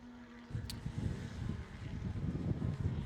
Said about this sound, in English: as Pete Nielsen puts in that strong lead run